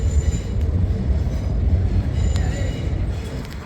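A train heading into Waterloo station rumbles past nearby, a heavy continuous low roar of wheels on rails with faint metallic squeals.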